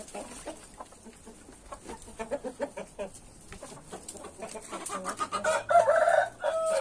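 Many roosters at a farm in the afternoon, a Carijó among them, cluck in a rapid irregular patter before one bird bursts into a loud, close crow near the end, with more crowing faintly behind it.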